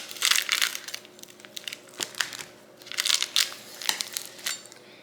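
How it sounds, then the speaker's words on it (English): Crispy onion pieces are diced with a knife, giving repeated close, sharp crunches in uneven bursts, with brief quiet gaps between the cuts. "hear that crunch? We're just gonna dice them up."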